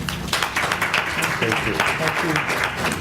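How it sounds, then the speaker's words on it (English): Audience applause for a panel at the close of a corporate purchasing conference session, a steady wash of many hands clapping at moderate loudness with some voices mixed in. "applause."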